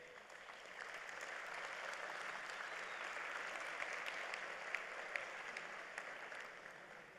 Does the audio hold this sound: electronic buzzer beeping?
no